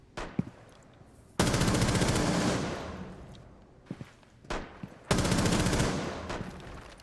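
Two long bursts of rapid automatic gunfire from a first-person shooter game replay, each lasting a few seconds, separated by quieter gaps with a few isolated shots and faint footstep-like clicks.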